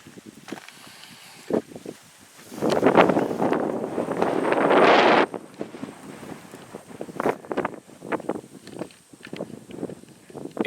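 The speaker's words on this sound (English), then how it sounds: "It's going to go dead smack into the wind to show you this." Strong gusts of wind buffet the camera microphone at a rural off-grid site, with loud rumbling bursts in the middle and lighter irregular buffeting around them.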